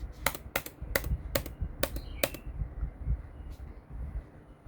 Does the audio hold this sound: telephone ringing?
no